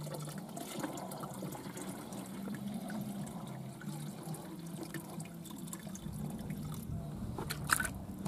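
Steady running water pours and splashes close by, a continuous soft rush with a few brighter spatters near the end.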